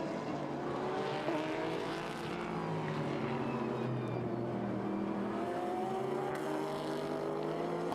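GT race cars at Okayama circuit in a Japan Cup GT World Challenge Asia race, with GT4 cars battling, drone steadily at a distance, a dense, continuous blend of engines with slowly shifting pitch.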